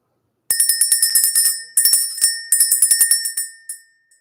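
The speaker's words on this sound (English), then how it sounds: "Let's ring this bell." A small handbell rung in a spiritual cleansing session, its bright metallic tones repeating in quick rhythmic bursts across three rounds before a final soft strike, clear and close with no talk.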